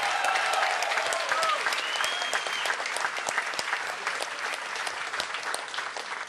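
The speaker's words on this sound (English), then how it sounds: "Give them both a round of applause." A large crowd applauds and cheers at a New York City primary election victory rally, with steady, dense clapping throughout and some whistles and shouts rising above it.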